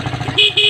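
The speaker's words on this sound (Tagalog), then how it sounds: "Lumakas yung busina niya." Two short, loud motorcycle horn blasts, close by, a brief pause between them, following a quieter low buzzing hum; the horn sounds louder after a capacitor is fitted.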